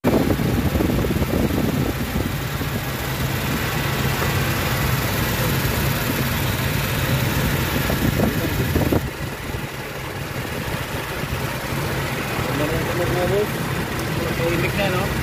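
A Toyota Innova engine starts up and settles into a steady, loud idle, with a serpentine belt tensioner squeak and ticking noise suspected. Brief speech is heard over the running engine, which drops slightly in level partway through.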